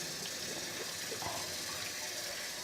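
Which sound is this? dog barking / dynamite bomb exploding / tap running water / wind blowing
tap running water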